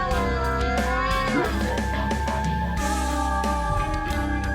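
A cartoon cat meows and yowls loudly in a horror-themed animated story, long drawn-out cries held over a rumbling low musical drone.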